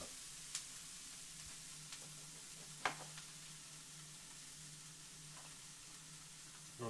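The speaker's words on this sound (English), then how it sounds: "So what I start with is I saute peppers and spinach usually." Peppers and spinach sauteing in a pan, a faint, soft, continuous hiss with a few light utensil taps and scrapes.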